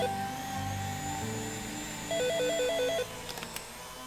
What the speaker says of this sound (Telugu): ఫోన్ చూడమ్మా